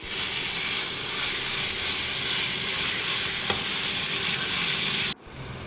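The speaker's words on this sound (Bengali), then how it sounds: "এটাও একটু ভেজে নিয়ে তারপরে দেবো চিকেন মশলা, আর দিচ্ছি চিকেন কিমা।" Onion, ginger-garlic paste and chicken keema fry in a pan with a steady, loud, close sizzle that holds evenly for about five seconds, then cuts off abruptly to a quieter hiss; nobody speaks.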